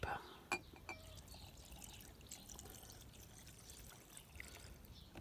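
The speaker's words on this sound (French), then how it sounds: "on va vider le gasoil en espérant de ne pas en mettre de partout" Diesel fuel trickles and pours into a fuel filter from a 2.5 CRD Jeep Cherokee KJ (Liberty), a faint, soft liquid stream heard close up throughout, with a few small knocks near the start.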